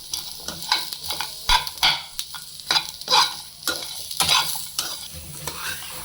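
Mutton chops roasting lightly over low heat in a pan, village style, giving a soft close sizzle broken by repeated scraping stirs and a few sharp clinks, with no talking.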